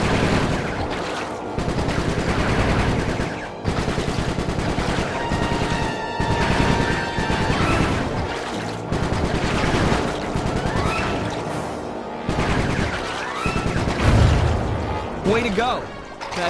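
Loud video game gunfire rattles through in dense machine-gun bursts and volleys, broken by short pauses and occasional heavier booms, with a voice talking over part of it.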